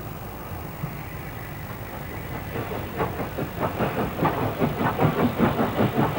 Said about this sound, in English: 30926 Repton is seen at New Bridge with a Pickering-bound train